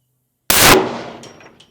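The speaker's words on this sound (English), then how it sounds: "Here's our Deagle against our Anvil." A Desert Eagle handgun fires a single loud, sharp shot at an anvil after a short silence; the blast decays over about a second with a faint metallic ring and a small later clink.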